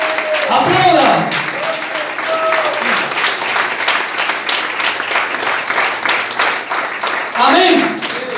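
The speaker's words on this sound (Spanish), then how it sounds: "Aplauda." A church congregation applauds steadily for several seconds, broad clapping filling the space, with a couple of brief voices calling out at the start and end.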